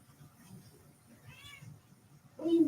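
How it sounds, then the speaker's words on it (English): A house cat meows during a relaxed evening live chat: a thin, short meow midway, then a louder, closer meow at the end, over a quiet room hum. "What are you meowing about?"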